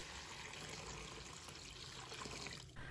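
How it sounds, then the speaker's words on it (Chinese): Water is poured into a bowl over raw chicken breast, a soft continuous splashing trickle heard close and faint, with no talk. "再倒入清水没过鸡胸肉"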